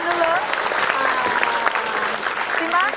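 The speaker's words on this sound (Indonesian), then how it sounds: "Kita kasih tepuk tangan dulu." A television quiz show studio audience breaks into continuous applause, with hosts' voices talking over the clapping throughout.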